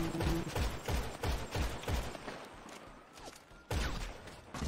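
Rapid bursts of gunfire in GTA 5 Online, a steady run of sharp shots for about three seconds, a brief lull, then another loud burst near the end.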